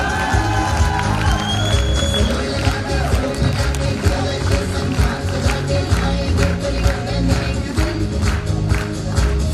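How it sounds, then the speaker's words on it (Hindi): Loud, sustained applause and cheering from a large crowd at an achievers recognition event in Indore, with whoops and shouts over dense clapping and low background music. "एक बार जोरदार तालियां।"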